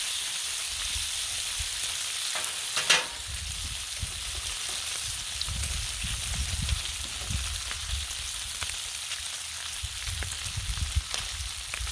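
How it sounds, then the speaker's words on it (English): Bacon fries on a Blackstone griddle in a constant close sizzle. A sharp click breaks in early, and a few soft crackles spread through the steady hiss. "Bacon's cooking up actually a little quicker than I expected"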